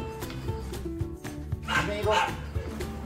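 A dog barks and yips in short bursts during an outdoor recall training session, the barks fairly close and mixed with people talking and some background noise.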